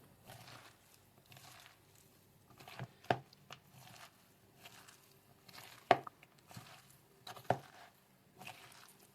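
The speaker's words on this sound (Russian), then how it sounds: "Осталось салат только перемешать." Salad is mixed by hand in a bowl, producing soft, irregular squishing and rustling with a few sharper wet clacks, close and quiet with no talking.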